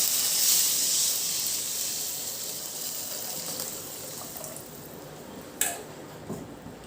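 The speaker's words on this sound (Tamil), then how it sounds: "இப்போ அந்த புளியை கரைச்சி அந்த தண்ணியை இதில் ஊற்றிடலாம்." Dissolved tamarind water pours into a hot pot of betel-leaf rasam with garlic, making a hissing, sizzling gush that is loudest at the start and then fades. A short clatter comes near the end.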